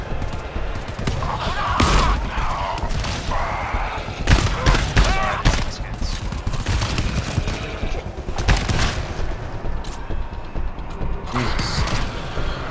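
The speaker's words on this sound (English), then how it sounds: "I just got lit up by the damn turret" Turret gunfire in the co-op shooter GTFO: rapid bursts of automatic shots repeat through a loud, chaotic firefight, mixed with mechanical clatter and players talking over the din.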